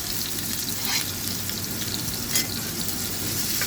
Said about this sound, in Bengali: এখন এটা 2 মিনিটের জন্য নাড়াচাড়াটা কিছুক্ষণ ভেজে নিব।